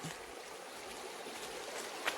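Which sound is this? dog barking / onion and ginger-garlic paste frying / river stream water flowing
river stream water flowing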